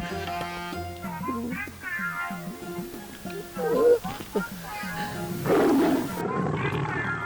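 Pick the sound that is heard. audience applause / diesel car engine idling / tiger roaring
tiger roaring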